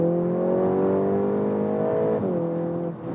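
VW Golf GTI Clubsport engine in Nürburgring mode, heard from inside the cabin as it pulls hard with a rising steady drone, then briefly dips at a gear change before droning on, loud and close with no talk.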